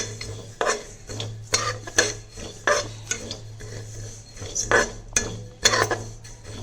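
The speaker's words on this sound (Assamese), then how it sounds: "এতিয়া গোটেইখিনি দিয়া হৈছে, এতিয়া মই ভাজি ল'ম।" Cumin, black pepper and other spices are stirred in a pan, with a spoon striking and scraping the metal in a rapid, uneven series of close clinks and rasps.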